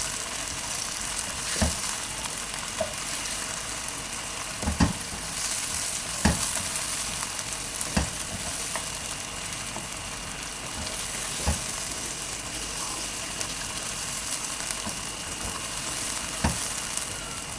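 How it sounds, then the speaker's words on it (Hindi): Mutton pieces, both bone-in and boneless, frying with masala in a pan for Pakistani-style nihari: a steady, even sizzle with occasional sharp clinks of stirring scattered through. "साथ हमारा मसाला फ्राई हो जाएगा, साथ हमारा गोश्त।"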